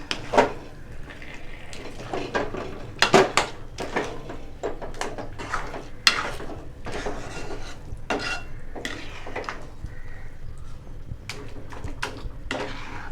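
A spoon scrapes and stirs Bombay halwa with roasted cashews in a pan, giving irregular scraping and rubbing strokes with occasional sharper knocks against the pan, close and fairly quiet, with no talking.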